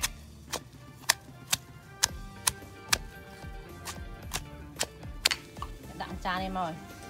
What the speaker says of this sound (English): So you're just gonna smash this until all the ingredients mix well with the garlic, the chili, and the salt and sugar.